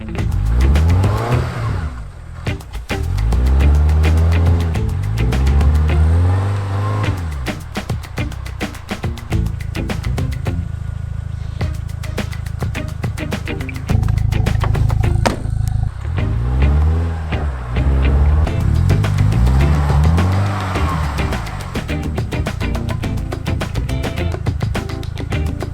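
A lifted off-road VW New Beetle forcing its way through deep snow, its engine revving hard in repeated rising and falling surges, loud and close, with wheelspin roar and crunching throughout.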